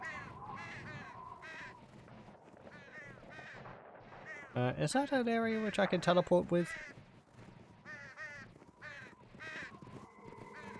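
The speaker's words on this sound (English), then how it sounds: "And there's birds everywhere." Crows caw in a fantasy role-playing game, Sacred Gold, with a loud cluster of harsh calls in the middle standing out over game sounds while someone talks before and after.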